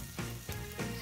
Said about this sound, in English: You want to cook these burgers until they're crispy on one side